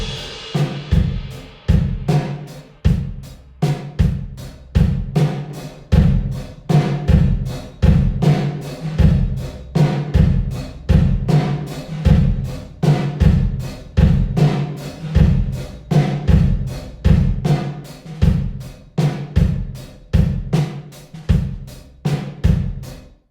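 Drum kit groove with a drive effect adding grit, played through a room reverb, steady repeating beat with punchy low kicks and bright cymbal hits, loud and alone for over twenty seconds.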